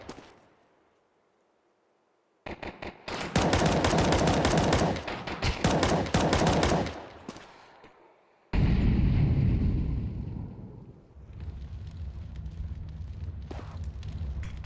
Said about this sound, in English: Just a bunch of pistols jumping around, though. Squirrely Glocks.